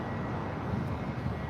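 An Allegiant airliner rolls down the runway at LAX, a broad, steady jet roar heard from a distance, unchanging over the brief moment with no voices.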